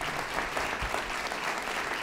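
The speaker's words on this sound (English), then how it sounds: "So give them a round of applause as well." Audience applause at an awards ceremony, a dense, even wash of many hands clapping at once, sustained and fairly loud with no break.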